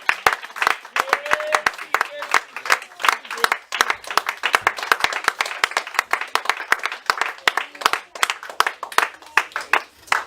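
A church congregation claps steadily and rhythmically, dense and sustained applause filling the space throughout, with voices mixed in.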